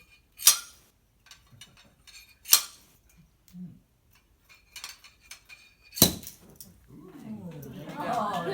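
A saber strikes a champagne bottle along its seam at the neck, giving sharp glassy clinks and knocks with quiet gaps between, then a loud crack followed by a rushing fizz of pouring foam.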